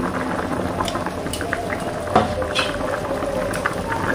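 Spiced Bhola fish curry gravy bubbles steadily in a pot, a soft continuous simmer with small pops and one sharper burst partway through.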